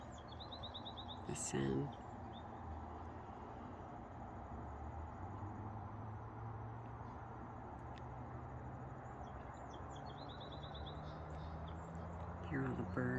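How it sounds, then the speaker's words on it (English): Birds singing outdoors, faint chirps and short high calls scattered over a low steady rumble of background noise, with a brief voice at the start. "Hear all the birds."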